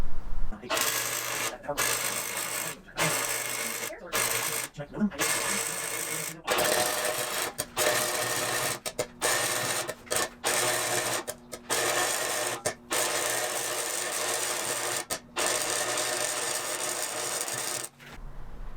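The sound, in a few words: welder welding car frame rail back together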